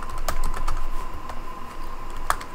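Keys clatter on a computer keyboard in quick, irregular bursts of typing, close and fairly loud, with a steady faint tone beneath.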